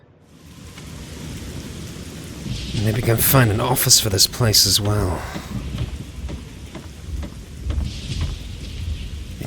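Steady rain and rumbling thunder from the video game Fallout 3 form a constant hiss and low roll beneath someone talking over the top.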